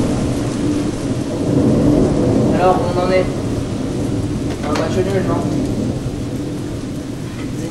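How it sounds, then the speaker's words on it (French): Steady heavy rain with rolling thunder, loud and continuous throughout, part of a courtroom-style stage play setting; a voice speaks briefly over the downpour. "Ça, c'est de la pluie, hein."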